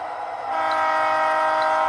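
A loud, steady rumble of a model DD40X locomotive with a Tsunami 2 sound decoder passing close by, with a sustained horn-like tonal drone over it.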